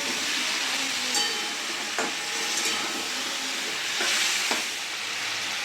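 Chicken pieces lightly frying in oil in a pan, a steady close sizzle and crackle with a few stirring scrapes, no voices.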